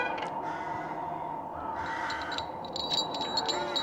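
A crow caws in a short rapid series of harsh calls, fairly loud over a steady ambient drone in a creepy fantasy horror setting.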